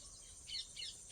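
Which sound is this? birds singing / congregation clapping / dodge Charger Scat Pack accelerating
birds singing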